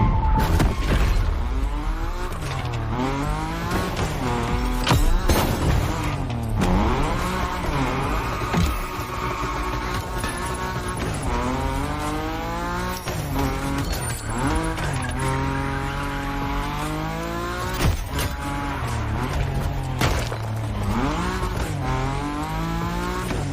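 Car drifting in The Crew Motorfest, a racing video game, with a revving engine that rises and falls and long tyre squeals sweeping over a steady loud roar, with no voices.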